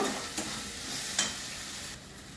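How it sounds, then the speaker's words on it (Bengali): Masala with cumin and turmeric sizzles softly in a pan for masala potol, with a couple of faint scraping clicks from stirring over a steady low hiss. "এবার আমি মশলাটাকে ভালো করে কষিয়ে দেব"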